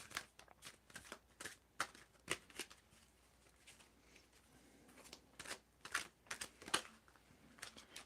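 Tarot cards are shuffled in quick, soft, irregular flicks and riffles, close but faint, continuing for several seconds without talk.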